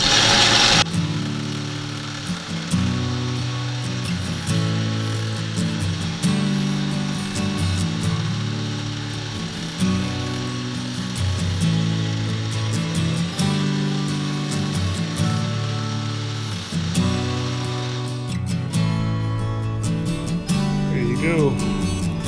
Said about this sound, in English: I'm going to put a little buffing compound on it, and then just run the knife edge over this and just break off that chip a little bit